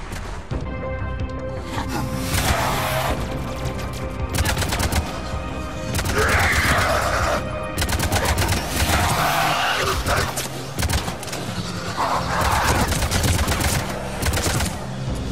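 Sustained gunfire from a firefight in the video game Mass Effect 3: dense, loud bursts of automatic weapon fire with sharp shot impacts and a few heavier blasts, running continuously throughout without speech.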